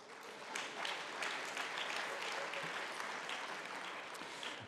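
Steady applause from a crowd at a party convention general debate in Hanover, dense clapping sustained throughout at moderate volume, with no voices standing out.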